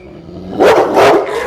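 An aggressive dog lets out two loud, harsh barks in quick succession, close by, with no talk over them.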